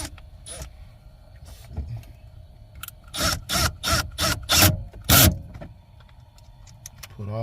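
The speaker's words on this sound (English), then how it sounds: "I'm going to put the 4 screws back that holds the system in" Screws going back into the factory radio unit of a 2008 Scion xB: a run of loud, evenly spaced mechanical bursts in the middle, with quieter clicks and handling noises before and after.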